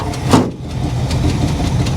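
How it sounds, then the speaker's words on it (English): A 1985 Chevy El Camino engine runs steadily at idle with a carburetor and electric choke, a close, even low rumble with one brief louder swell near the start. "The engine itself sounds pretty healthy."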